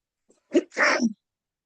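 A single close sneeze: a quick intake followed by a sharp, explosive burst, then silence.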